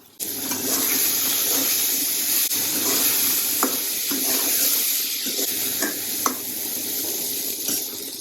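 Eggplant slices frying in oil in a pan for a Bengali begun katla curry with lentil bori, a loud, steady sizzling hiss with occasional sharp pops and clicks.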